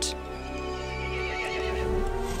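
An angry horse neighs and whinnies in Resident Evil Village, a loud, drawn-out cry with hooves clip-clopping faintly beneath it, heard without any talk.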